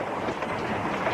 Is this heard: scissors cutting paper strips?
no